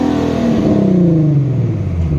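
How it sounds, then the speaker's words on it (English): Infiniti Q50's VQ37 engine revs hard through an aftermarket exhaust, a loud, close, continuous roar whose pitch sweeps down over about two seconds, with no talking. "Now we're letting that VQ 37 just rip."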